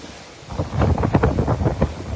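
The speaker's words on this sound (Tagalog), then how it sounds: "Ganyan kalakas po yung hangin at dalang ulan ng bagyong Ulysses." Strong wind and heavy rain of Typhoon Ulysses in Camarines Norte, Philippines, in 2020, roaring in loud, gusty bursts that buffet the microphone over a constant wash of rain.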